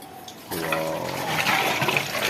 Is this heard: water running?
yes